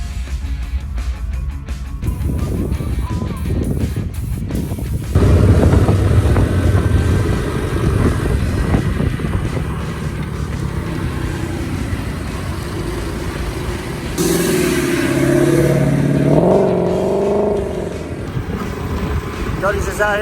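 A loud drag race car engine rumbles and revs continuously, warming the transmission, with rising and falling pitch, under a voice talking for stretches.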